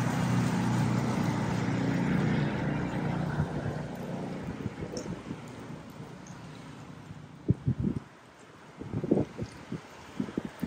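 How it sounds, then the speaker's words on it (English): Strong gusting wind outdoors in a Vietnamese square buffets the microphone in a loud, low rumble that eases off midway, followed by a few sharp knocks and thumps. "We've got strong wind coming now"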